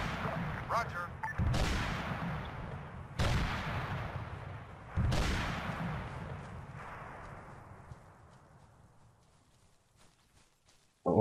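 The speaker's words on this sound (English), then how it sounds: "That was a lot of explosions." Three heavy video game explosions in ARMA 3 go off a couple of seconds apart, each followed by a long rumbling decay that fades gradually into quiet.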